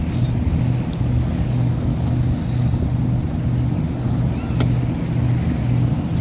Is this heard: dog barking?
no